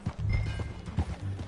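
Horse being ridden in a video game: rhythmic clip-clop of hooves close by, with a neigh and the animal's snorting mixed into the steady gait.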